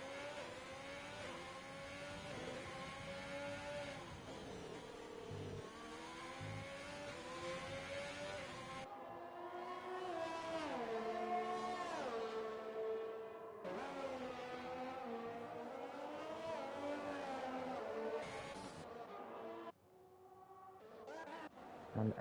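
Formula 1 race cars in the F1 2020 video game at the Canada round, engines revving and shifting through rising pitch sweeps as cars leave the pits, with a commentator talking over the sound.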